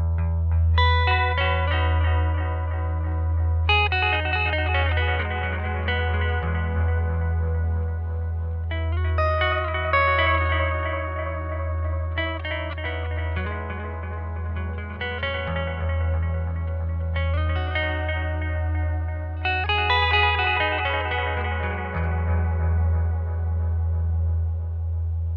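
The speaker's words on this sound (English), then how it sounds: "So here is the Deluxe Memory Man." Guitar played through an Electro-Harmonix Deluxe Memory Man analog delay pedal, a steady run of picked notes and chords with warm, modulated echoes repeating behind each phrase over a constant low hum, alone with no talking.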